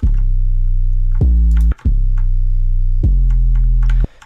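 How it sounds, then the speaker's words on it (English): Electronic neuro bass made with sine compression plays loud and alone, holding long low notes with a short gap and a high-passed sidechain texture on top. "I do have this neuro bass again, the sine compression one."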